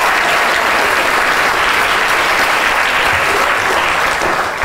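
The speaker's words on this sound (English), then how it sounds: "Big round of applause, please." Loud, dense audience applause at a live show, continuous and even, with no talking over it.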